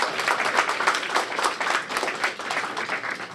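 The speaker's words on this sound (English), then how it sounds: "let's give the mayor a big round of applause" An audience at a senior floral design workshop applauds the mayor, a close, lively burst of many hands clapping with a rippling rhythm that holds steady for a few seconds.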